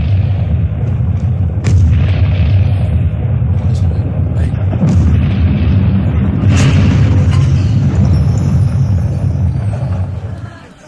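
Deep booming explosions rumble continuously, with a few sharper bursts breaking through the heavy low roar before it fades out at the end.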